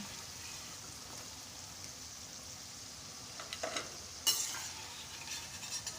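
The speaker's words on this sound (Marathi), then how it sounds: "मक्याचे पकोडे छान आता आपले तळूनसुद्धा झालेले आहेत आता आपण काढून घेऊया" Corn pakoras frying in hot oil give a soft, steady sizzle and bubbling hiss, with a few louder crackles and spatters near the end, no voices.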